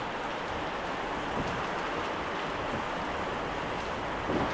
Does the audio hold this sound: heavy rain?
yes